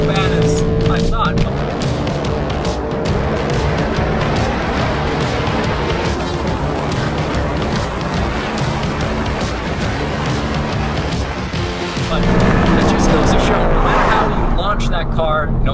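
A Volkswagen Golf R and a Ford Mustang drag race, with engine roar from the cars running throughout and a commentator talking over it. A louder surge of car noise comes near the end.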